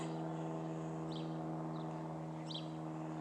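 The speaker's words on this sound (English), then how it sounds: "Small engine aircraft out here." A small-engine aircraft passes overhead outdoors on an early morning, its faint, steady propeller drone humming throughout, with a few brief bird chirps above it.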